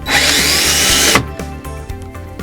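A power drill with a 2.5mm bit bores a hole using a multi tool jig, a loud close whine for about a second that stops abruptly, followed by a low motor hum and faint clicks.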